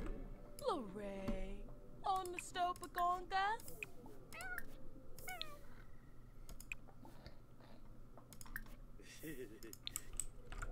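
A cat meowing in The Sims 4 game, several short rising and falling meows in quick succession early on, then quieter game sounds with soft clicks and keyboard-like tapping.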